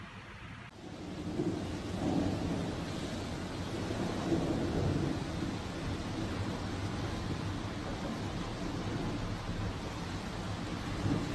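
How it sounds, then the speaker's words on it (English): Thunderstorm over Sydney, Australia, with heavy rain: a dense, steady wash of rainfall and low rumbling thunder throughout, opening with a brief sharp onset, and no voices. "Sydney storm bring billions of lightning to the city. Thunderstorm in Australia."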